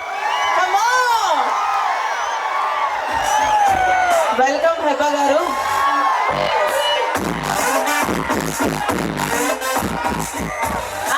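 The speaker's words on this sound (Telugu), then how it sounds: "ఒక్కసారి గట్టిగా చెప్పట్లండి హుషారుగా" A lively crowd at an outdoor event cheers, whoops and claps loudly throughout, while an announcer speaks over the noise.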